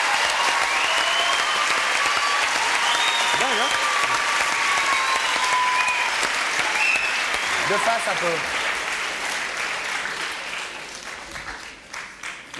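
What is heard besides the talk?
audience applauding a performing dog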